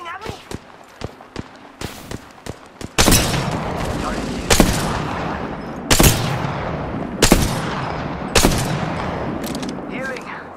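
Gunfire in the Apex Legends video game: a rapid string of sharp shots, then several louder close bursts over a dense battle wash, with a voice talking over the action.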